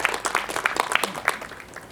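Clapping from an audience at a Korean memorial worship service, a brief patter of individual claps, fairly close and fading toward the end.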